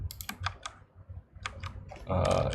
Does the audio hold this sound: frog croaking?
no